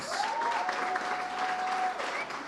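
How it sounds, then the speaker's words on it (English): Audience applause for filmmakers at an independent film festival awards ceremony, a steady dense clapping from a crowd lasting the whole moment, with a faint tone running through it. "How about a big round of applause to all the filmmakers?"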